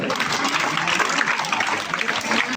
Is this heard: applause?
yes